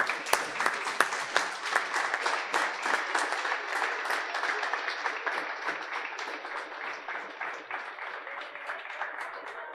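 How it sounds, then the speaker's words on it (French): Audience at an award ceremony applauding students: steady, moderately loud clapping from a small crowd, with sharp individual claps standing out early, then continuing evenly and slowly tapering. "Et on peut les applaudir."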